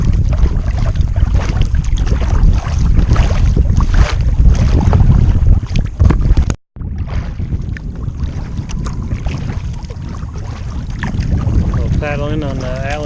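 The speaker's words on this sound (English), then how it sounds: "So paddling on Allen's Bay." A kayak moves across Allen's Bay on the Mississippi headwaters through small waves, with steady splashing paddle strokes, water lapping and wind buffeting the microphone, and a brief cut partway through.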